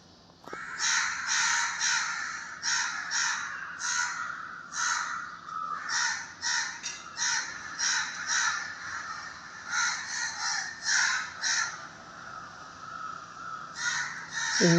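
A flock of crows cawing outside a house on a cold day, many harsh calls overlapping in irregular bursts throughout, close and fairly loud with no talking.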